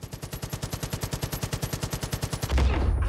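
Rapid automatic gunfire in Far Cry 5, about two dozen evenly spaced loud shots in a fast burst, ending in a heavier boom-like blast.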